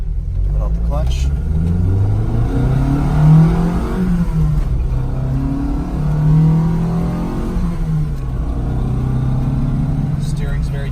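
A 1972 Lancia Fulvia Series 2 pulls away from near standstill in first gear, its engine loud and close with a steady droning note that rises and falls in pitch as it accelerates.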